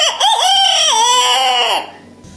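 A single loud, close rooster crow rises and holds for nearly two seconds before trailing off, with a brief clucking start and no talking.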